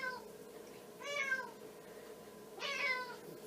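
An unhappy cat at a vet practical for urine sample collection gives two drawn-out, complaining meows, close and moderately loud, over a faint steady background hum.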